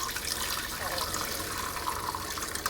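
Crystal malt liquid for a homebrew Coopers Galaxy ale poured through a sieve, a steady close splashing trickle of liquid running for a few seconds with no talk.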